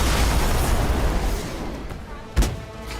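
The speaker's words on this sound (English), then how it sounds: "Oh, I just heard the first fireworks near me." A single short firework boom goes off nearby, a sharp thud that rises out of steady background noise before fading.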